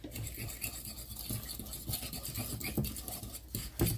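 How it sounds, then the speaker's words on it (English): Butter and packed brown sugar are creamed by hand in a bowl, giving a soft, continuous scraping and swishing with small rhythmic strokes, close and quiet. "I'm just going to keep creaming it in with the sugar"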